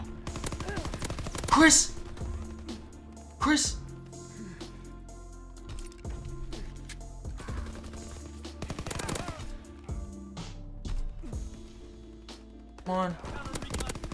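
Rifle and machine-gun fire in the video game Call of Duty WW2 bursts in sharp, scattered volleys across a busy battlefield, some shots near and loud, others distant, while players call out to each other.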